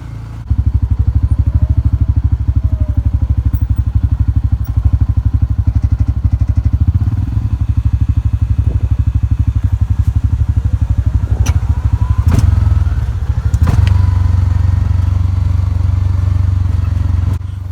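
A Hisun Massimo 700 UTV engine drones loudly and steadily while driving in low range, with clattering and thumps from the machine over the rough ride.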